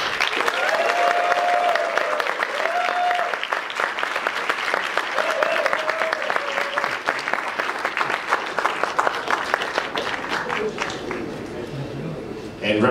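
Sustained loud applause from a large crowd at a sommelier competition final, steady clapping throughout with some whistles and cheers mixed in.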